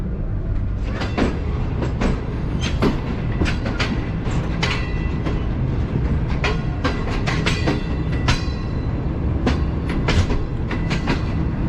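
A Pakistan Railways Green Line Express pulls into Karachi Cantt station, steady loud rolling rumble with dense clickety-clack of wheels over rail joints throughout, no voices.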